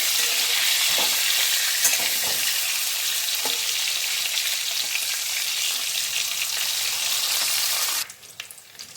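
Potato-stuffed capsicum fry in a covered pan, giving a steady, dense sizzle that stays loud and even before dropping away abruptly near the end, with a few faint stirring clicks and no talk.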